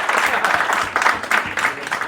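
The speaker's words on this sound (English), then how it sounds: "Round of applause" Applause from an audience at a live comedy debate on Star Trek versus Star Wars, a steady dense patter of clapping that swells slightly at moments, with some crowd noise mixed in.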